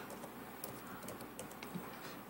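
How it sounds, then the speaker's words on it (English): Quiet, quick taps on a computer keyboard come in an uneven run of keystrokes, close but faint, with no talking over them. "And I'm typing in the name of that file right there."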